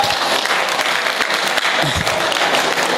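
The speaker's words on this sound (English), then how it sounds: "Another hard clap." An audience at an education ministry event gives a hard round of applause, thick sustained clapping with a faint murmur of voices underneath.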